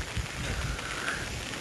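Continuous rain falls steadily, making a dense, close hiss of drops with a few soft low splashes, constant from start to end with no voices.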